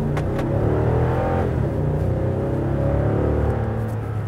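A 2014 Toyota Tundra pickup with a 381-horsepower engine accelerates hard, its loud, steady engine roar rising and holding close by throughout, with no talking.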